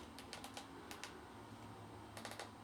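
Keyboard typing of a terminal command: three quick clusters of crisp key clicks, close and fairly soft, with light steady room hiss underneath and no voices.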